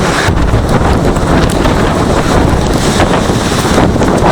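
Strong wind and rough sea during Typhoon Quinta, a loud, continuous roar of gusting wind buffeting the microphone over crashing water, with no voices.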